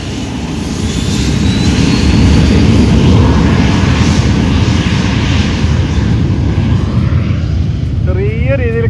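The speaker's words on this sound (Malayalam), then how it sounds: "വേറെ ഒരെണ്ണം ടേക്ക് ഓഫ് ചെയ്യാൻ വേണ്ടി പോവാണ് അവിടെ." Steady, loud aircraft engine roar from a plane taking off at Maho Beach, building and holding throughout with wind, and a voice cutting in near the end.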